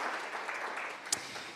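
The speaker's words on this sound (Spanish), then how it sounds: "Amén, hermanos, fuertes aplausos a Él." A church congregation claps briefly during a Spanish-language sermon, producing a soft, even wash of applause heard from a distance, with one sharper sound near the end.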